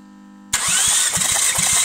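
After a brief tone, a 2.5-litre Mazda 6 engine cranks steadily during a compression test, with rapid, even pulses of the starter turning over, loud and close.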